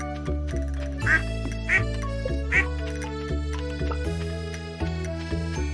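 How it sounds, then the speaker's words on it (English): Ducks quack several times with loud nasal calls over a constant low hum and other steady tones, with no speech. "Hi, ducks! What you doing?"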